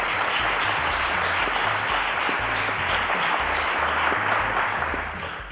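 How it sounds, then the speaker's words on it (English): A studio audience at a quiz show applauds a contestant with steady, dense clapping that holds evenly throughout and eases slightly at the very end. "A round of applause to Mamus, guys"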